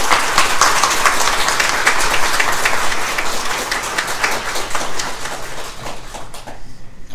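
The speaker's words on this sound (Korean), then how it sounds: "여러분 박수 한번 보내주시기 바랍니다" Sustained applause from an audience at a press conference, dense clapping that fills the room steadily for several seconds before tapering off at the end.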